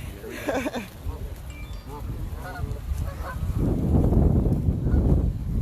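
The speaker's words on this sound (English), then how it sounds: "so that was the spectacular geese" Several geese on a boardwalk give repeated nasal honks at close range, overlapping in a noisy cluster, with people talking amid a rising rumble of footsteps and movement.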